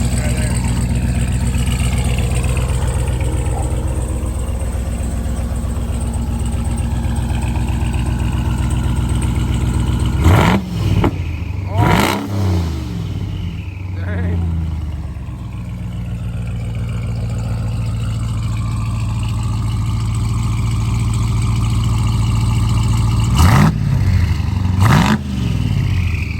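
A twin-turbo 1000HP RAM 1500 pickup with mufflers still fitted idles loudly up close, rising into a few sharp revs partway through and again near the end, with a deep rumble throughout.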